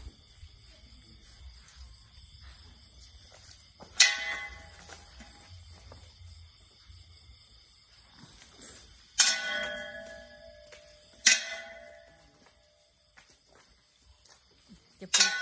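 A bell struck with a bracelet rings out in three or four sharp metallic strikes a few seconds apart, each with a short bright shimmer, over a quiet room.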